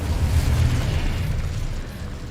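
The Confringo fire-blast spell from Hogwarts Legacy bursts with a single loud, booming explosion that rumbles low and fades away over about two seconds.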